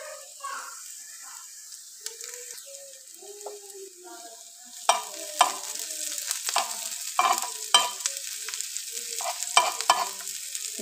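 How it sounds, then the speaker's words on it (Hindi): Chopped vegetables and green chillies sizzle in a pan for an omelette. A soft fry builds into louder crackling bursts and stirring scrapes over the second half. "अब हम इसमें डाल देंगे सब्ज़ी मिर्ची। अब उसको भी हम फ्राई करेंगे।"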